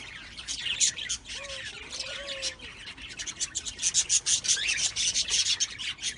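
Lovebirds during mating give a busy stream of close, bright chirps and squawks, with scratchy rubbing and rustling running throughout and a few short whistled calls.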